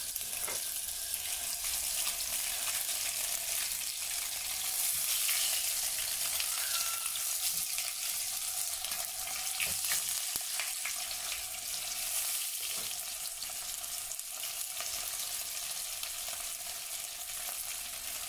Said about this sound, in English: what we're going to do now is to cook to fry this bean curd to golden brown